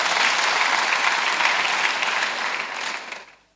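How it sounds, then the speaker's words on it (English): Audience applause for a minister at a public event, steady loud clapping from a crowd that holds for about three seconds, then tapers off quickly to silence, with no talking. "Give the minister a round of applause."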